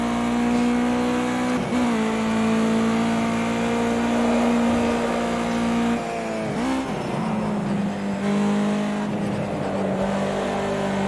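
A race car in Project CARS 2, its engine holding a loud, steady high whine through the gears, with brief dips and pitch shifts at downshifts and corners.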